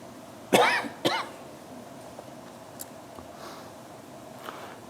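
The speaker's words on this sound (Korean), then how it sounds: "존귀하신 여러분 앞에 이렇게 기침을 하는 사람에겐 벌을 줘야 돼" A person coughs twice in quick succession, loud and close, during a church Sunday service, followed by a quiet room with faint background noise.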